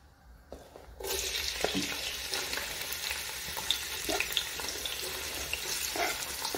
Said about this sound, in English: Now I've put the oil in the pan, and now it's time for me to put the onions.